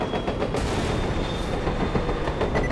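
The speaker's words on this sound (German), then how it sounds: "Na, da kommt Zug" A train arriving in Borderlands: The Pre-Sequel, a loud, continuous rumbling roar with dense clatter and a faint high whine, heard alone without talk.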